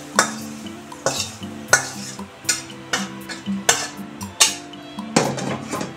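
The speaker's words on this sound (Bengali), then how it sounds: "দেখুন আমি এটাকে এই যে শিল পাটায় ঢেলে নিয়েছি।" Vegetable peel mixture is tipped onto a shil pata grinding stone in a home kitchen, giving a run of regular scraping, clattering hits about every half second, close and fairly loud, without talk.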